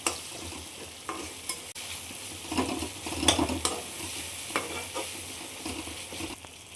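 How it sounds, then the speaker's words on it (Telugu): Tomatoes and onions fry in a pan with a continuous sizzle, broken by irregular scrapes and clinks of a spoon stirring against metal, close and moderately loud. "ఇప్పుడు టమాటాలు ఉల్లిపాయలు కూడా బాగా వేగినాయండి"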